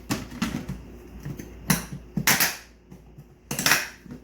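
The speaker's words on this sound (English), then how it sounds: "Shake it up a bit." Dry wood pellets rattle and clatter inside a closed lidded box in a few short bursts of shaking, loud and close, with quiet pauses between.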